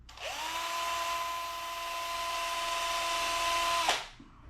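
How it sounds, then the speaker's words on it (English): A power drill with a 1/16 DeWalt bit whirs steadily at high speed for about four seconds while drilling a 1:25 plastic model kit, close and loud, then winds down and stops. "I took out my 1/16 DeWalt drill bit device, and that seemed to be all it took."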